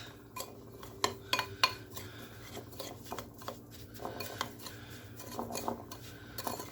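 A utensil mixing milk in a bowl, with light clinks, taps and scraping strokes against the dish at an irregular rhythm, close and fairly quiet.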